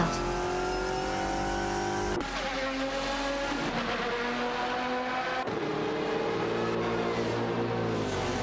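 Race cars including a Jaguar XKR GT2 and a Ferrari 550 GTS battle on track, engines droning and shifting pitch in steady layered tones, with a sharp change in note as one car passes or shifts, loud and continuous throughout.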